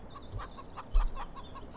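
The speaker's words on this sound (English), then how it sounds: "There's some chickens. Hello, chickens." Chickens cluck softly in a farmyard in the Farming Simulator 17 video game, a few short, faint, repeated clucks over a steady low background hum.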